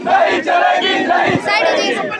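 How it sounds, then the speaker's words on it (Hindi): A large street protest crowd against the state government chants political slogans in unison, loud and close, the repeated shouted phrases rising and falling in a steady rhythm. "ये नारेबाजी हो रही है लगातार"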